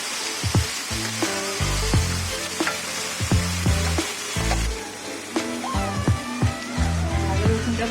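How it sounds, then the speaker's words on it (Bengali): A tablespoon each of garlic and ginger fries in a pan with a busy, crackling sizzle, broken by repeated spatula scrapes and knocks against the metal as it is stirred. "আদা রসুনটা ভাজা হয়ে গেছে"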